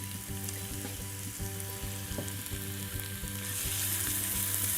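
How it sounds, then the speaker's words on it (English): Grated carrot and chopped spring onions sauté in hot oil, giving a steady, close, continuous sizzle with faint scraping, under a constant low hum and no voices. "in the oil I'm going to saute some vegetables. I've got a grated carrot, and I've also got a couple of spring onions that I've chopped"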